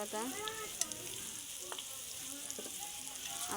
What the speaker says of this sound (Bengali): বাটাটা তেলের সাথে ভালো করে মিক্স করে নেব, যেন কাঁচা গন্ধটা চলে যায়।